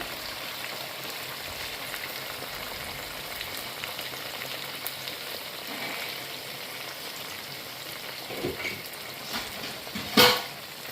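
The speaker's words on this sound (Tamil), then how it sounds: "நான் இப்போ வந்து நாலு தக்காளி சேர்க்குறேன்" Four tomatoes fry in a pan on a low flame while a kuzhambu is being made, giving a steady soft sizzle throughout with a few light clinks and a sharp tap near the end.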